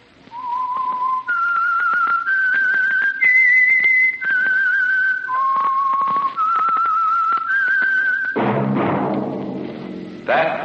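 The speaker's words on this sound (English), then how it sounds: "That whistle is your signal for the Signal Oil Program, The Whistler." Whistled theme tune announcing The Whistler radio program, a lone clear melodic whistle in sustained notes, followed by a brief burst of orchestral music.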